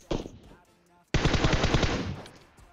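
Gunfire in PUBG Mobile at Rozhok: a single loud shot, a brief lull, then a sustained rapid automatic burst of evenly spaced, close, sharp reports running to the end.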